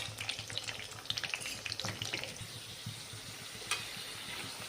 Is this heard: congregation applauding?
no